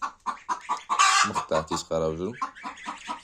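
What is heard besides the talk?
chickens clucking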